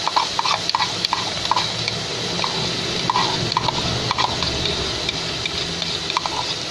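Dry toor dal lentils pour into a metal pot on a kitchen stove, producing a steady granular rattle with repeated clinking taps over a constant sizzling background hiss.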